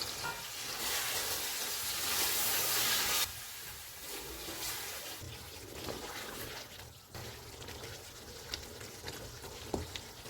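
Marinated chicken added to fried onions in a pan over medium-high heat, crackling and sizzling close up, loud at first, then settling into a steadier frying hiss with occasional stirring knocks.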